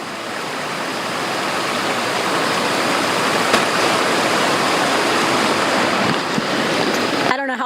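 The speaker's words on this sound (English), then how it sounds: "this water is just really rushing" Floodwater rushes through a creek during Hurricane Helene, a loud, steady roar of churning water that holds unbroken for several seconds before a voice cuts in at the very end.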